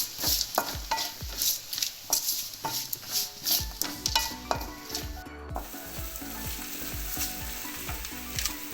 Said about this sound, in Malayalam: ഇനി ഇതൊരു ബ്രൗൺ കളറാവുന്നത് വരെ നമുക്ക് വഴറ്റി കൊടുക്കാം